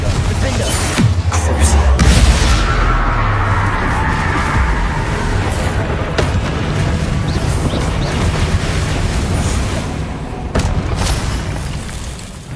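Confringo blasting spell in Hogwarts Legacy: a loud, deep booming explosion near the start, trailing into a long rumbling decay with scattered smaller crackles and bangs afterward.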